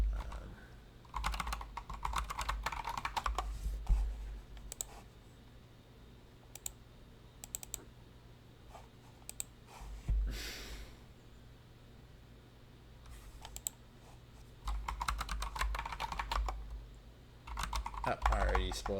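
Typing on a computer keyboard during Linux kernel development work: bursts of rapid, close keystroke clicks come in several runs separated by pauses and a few isolated taps, with no talk.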